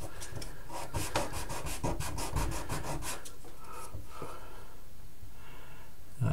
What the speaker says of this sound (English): So it's good and flat sanded.